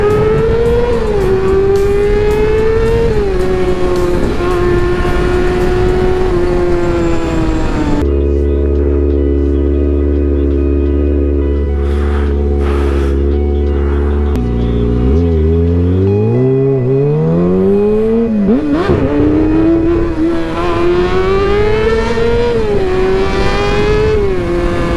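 A motorcycle engine roars close and loud, revving hard through rising and falling pitch sweeps, holding a steady high drone for several seconds while the rider lifts into a wheelie, then climbing again through the gears.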